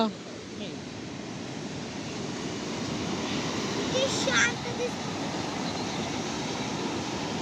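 Ocean waves washing onto an empty Konkan coast beach, a broad continuous surf roar that swells slightly midway, mixed with wind noise on the microphone.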